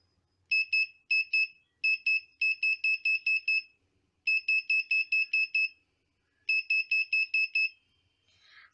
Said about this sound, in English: we'll just see how this short distance alarm actually works